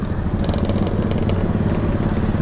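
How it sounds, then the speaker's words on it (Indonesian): Motorcycle speeding past on a rural road between Pontianak and Landak, a loud continuous engine drone heard up close, with a few rising revving bursts. "ini kayaknya laju nih motornya"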